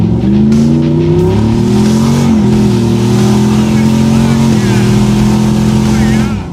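A street race car with a 6-liter LS truck engine is floored, its loud, close engine roar climbing and holding steady through the gears, with tire and road noise underneath.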